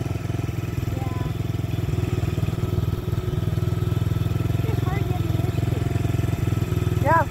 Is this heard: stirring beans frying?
no